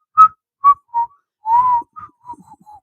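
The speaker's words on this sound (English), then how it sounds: "really good at whistling, by the way." A person whistles a melody, a short series of clear, close whistled notes with a longer sustained note in the middle, then trailing off softly.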